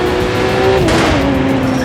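Street racing cars roar in the video game The Crew 2, a loud, continuous engine drone with a shifting pitch as a car passes and accelerates.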